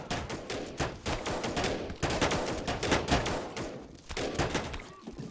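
Rapid crackling gunfire from massed snipers in the video game They Are Billions, dense overlapping shots in quick bursts, fairly loud throughout.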